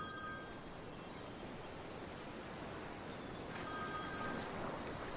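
A telephone rings in two separate bursts of bright, steady tones, one at the start and another a few seconds later, over a constant soft hiss like distant surf.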